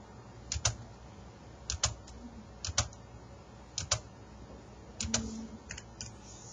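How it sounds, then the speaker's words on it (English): Keys are pressed on a graphing calculator while an equation is entered, a series of small, faint plastic clicks arriving in short irregular clusters. "I'm going to be typing in C, which is 2 over"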